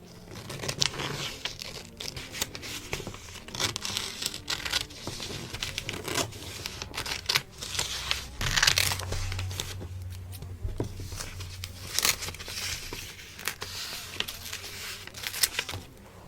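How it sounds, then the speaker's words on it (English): Scissors snip and slice through a large piece of material at close range, with crinkling, rustling handling sounds and occasional soft thumps around the cuts. "I am going to take this and simply cut off quite a large portion."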